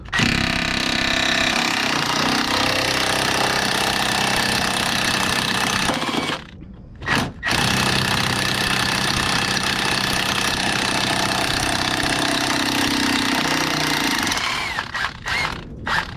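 A big impact wrench with a 6-point socket hammers at a rusted steering box bolt on a 1982–92 Camaro. The loud, sustained rattling burst breaks off briefly, then resumes and ends in a few short stutters.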